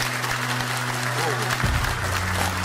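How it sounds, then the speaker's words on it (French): An audience applauds at a French personal-development success event, the clapping a sustained, even wash across the whole stretch, with a voice speaking briefly over it partway through. "On peut applaudir pour ça"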